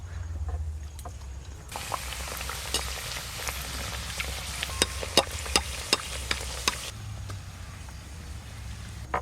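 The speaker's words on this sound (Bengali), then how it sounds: "এবার কচুরিগুলো ভেজে নেবো" Green pea kachoris fry in hot oil in a kadai, giving a steady crackling sizzle with sharp pops and spits through the middle stretch, fairly close and moderately loud, with no talking.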